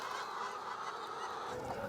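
Farm birds, seemingly geese, give loud honking calls that overlap continuously in a dense, close chorus over two seconds.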